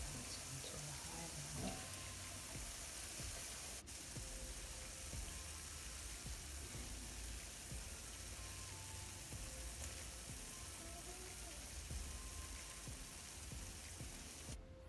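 Saltfish and banana fritters frying in hot oil, a steady close sizzle with soft crackling spatter running the whole time, no voices over it.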